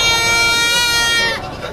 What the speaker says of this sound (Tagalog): Mag-iinang kambing.